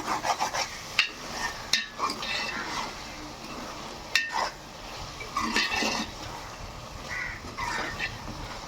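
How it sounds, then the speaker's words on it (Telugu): Brinjal and dried fish curry stirred in a pan, a spoon scraping and rubbing in irregular strokes with soft clinks, close and moderately loud, with no talking. "ఈ విధంగా మగ్గుతూ ఉండగా మనం కలుపుకుంటూ ఉండాలి"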